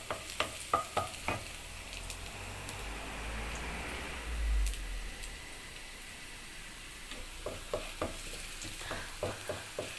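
Pakbet vegetables being stirred in a frying pan, a quiet continuous sizzle broken by clusters of sharp scraping ticks from the spoon at the start and end, with a soft thump in the middle.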